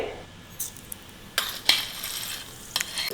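Mustard seeds tipped into hot oil in a pan give a few sharp clinks and brief scattered pops over a faint sizzle, close and fairly quiet.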